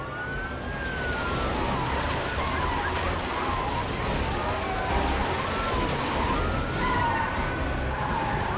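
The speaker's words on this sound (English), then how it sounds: "I'm going to kick off a police car chase in the nearby area" A police car siren wails and sweeps during a chase in The Amazing Spider-Man video game, steady and fairly loud over dense city traffic and game sound, with some talk mixed in.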